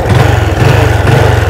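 Motorcycle engine running close by at idle, a loud, steady, throbbing low chug that pulses evenly throughout, with no talking.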